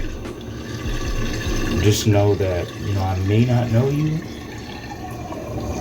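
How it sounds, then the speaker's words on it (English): Dishwater drains out of a kitchen sink with a steady gurgling rush while washing dishes, running underneath a person talking close by. "I am about to let some of this water out."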